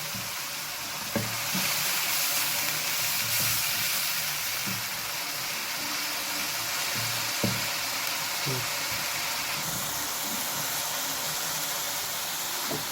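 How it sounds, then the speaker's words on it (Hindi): Ginger and garlic paste fries in hot oil for chicken karahi, giving a steady, loud sizzle throughout, with occasional soft knocks and scrapes as a spoon stirs it. "ये देखें इस तरह से इसको अच्छी तरह से मैं मिक्स करके भूनूंगा।"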